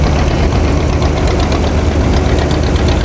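Old Waterloo-built tractor engine running at a steady idle, a loud, close, continuous mechanical drone with a fast rhythmic knocking pulse and heavy vibration, no voices.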